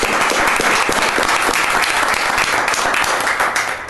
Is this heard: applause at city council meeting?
yes